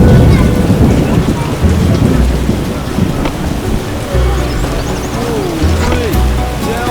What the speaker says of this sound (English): It'll rain through tomorrow.